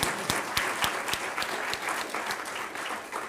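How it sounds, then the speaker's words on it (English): A Unitarian Universalist church congregation gives a round of applause during Sunday service, steady crowd clapping with a few sharp, distinct claps standing out near the front, continuous and fairly full without speech. "let's give her a round of applause"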